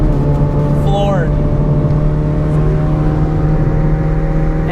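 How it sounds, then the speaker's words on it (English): A car floored in third gear, a loud droning engine hum holding steady and strained as it barely gains speed, with a voice briefly over it. "This is third gear, floored."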